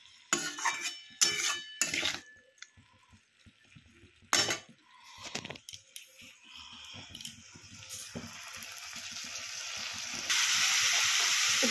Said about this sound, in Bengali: এবার এটা ব্রকলিটা দিয়ে ভালো করে কষাবো।